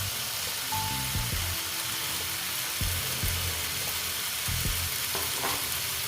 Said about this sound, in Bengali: এখন আমি দিয়ে দিচ্ছি এই যে ছোলা কড়াই আর মুগ কড়াই দিয়ে।